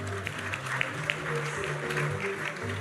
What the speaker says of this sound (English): one big round of applause for all these lovely winners